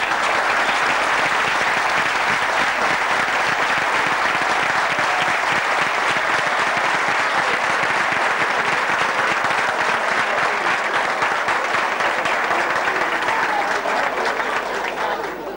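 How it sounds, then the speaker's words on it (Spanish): Loud, sustained crowd applause fills a dinner hall at the inauguration of a Real Madrid supporters' club in Santa Margalida, Mallorca, with dense clapping that continues steadily for about fifteen seconds. "pues para todos ellos un fuerte aplauso"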